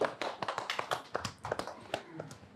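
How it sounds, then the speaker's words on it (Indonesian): A studio audience claps in welcome, a brief patter of scattered, uneven hand claps close by, with no voices over it. "Tepuk tangan dong"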